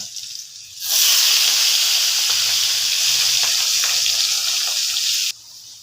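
Garlic dropped into hot oil after a spice paste bursts into a loud, even hiss that holds for about four seconds and then stops suddenly.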